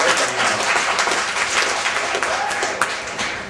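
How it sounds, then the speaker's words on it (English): Audience applause at a regional conference for a drug-policy student group, a dense, even wash of many hands clapping throughout, loud and sustained with no break. "so applause for all of you"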